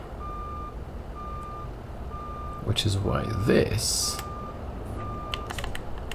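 Reversing beeps from a truck in American Truck Simulator sound during a messy parking manoeuvre: a steady series of evenly spaced electronic tones under a voice, with engine rumble and air hiss swelling midway.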